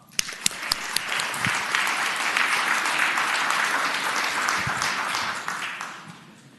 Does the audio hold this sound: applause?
yes